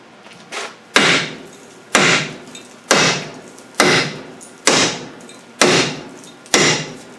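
Heavy hammer blows strike a seized rear brake disc on a car, about seven loud, evenly spaced metallic whacks roughly one per second, each ringing briefly before the next, with no talking.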